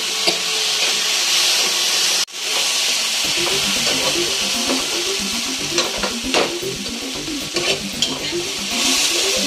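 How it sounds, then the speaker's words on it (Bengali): Spice paste sizzles and fries in a pan for a tilapia curry, a loud, close, continuous hiss with rhythmic scraping as it is stirred, after a brief pause near the start. "এখানে দেখো আমাদের মশলাটা কষানো হচ্ছে।"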